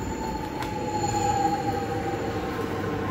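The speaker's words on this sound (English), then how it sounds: "Let's watch our train go." Steady rumble of a Melbourne suburban train pulling out of a station, with a faint high wheel squeal and continuous rolling noise, no voices.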